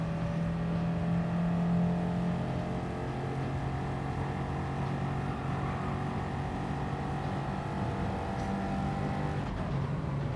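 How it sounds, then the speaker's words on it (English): A race car engine drones steadily in Gran Turismo 7, a sustained mid-pitched hum of revving and shifting at speed with a faint tire or transmission whine, continuous and fairly loud with no voices. "I need to rev that more there, don't I?"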